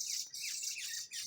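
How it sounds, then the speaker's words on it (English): Birds feeding on bananas in fruit trees give a busy run of high, bright chirps and harsh squawks, close and fairly loud, with no voices. "we got birds eating bananas here"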